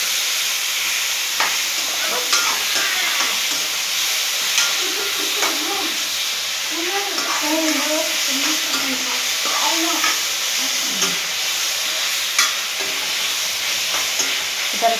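Tomatoes and bottle gourd fry in a pan with a continuous close sizzle and hiss, broken by occasional stirring clinks and scrapes over fifteen seconds.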